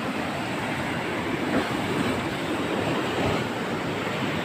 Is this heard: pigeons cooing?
no